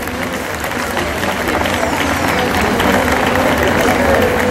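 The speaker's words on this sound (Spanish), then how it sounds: "Un fuerte aplauso, por favor." Loud crowd applause at a public event in Taxco, dense and continuous with a murmur of voices and crowd noise mixed in.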